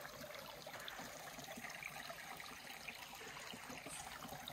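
A small stream beside a hiking trail near Bishop Pass trickles and burbles steadily, a continuous soft wash of water running with no voices.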